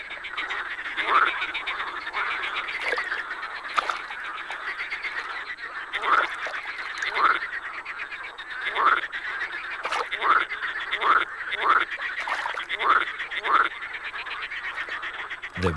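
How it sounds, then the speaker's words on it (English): Chorus of marsh frogs croaking at evening in a river delta, repeated rising croaks from several animals overlapping in an irregular rhythm against a steady background of calls, fairly close and without talk. "As evening approaches, the croaking of these amorous amphibians reaches a climax"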